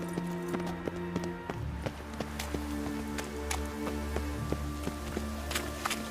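Rain falls in The Witcher 3, a steady wash of noise with sharp scattered ticks of drops over a low rumble. Hoof-like clopping runs along with it, and no talk is heard.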